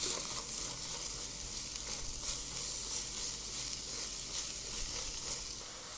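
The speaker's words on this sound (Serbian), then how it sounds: "Luk pržim dok ne omekša." Onion softens in two spoons of hot oil in a frying pan, giving a steady, close, even sizzle that stays level from start to finish with no talk.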